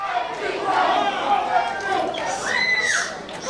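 A rowdy wrestling crowd at an FEW vs TNA match chants and roars in a loud indoor arena, with shouts rising in waves and a commentator talking over the noise.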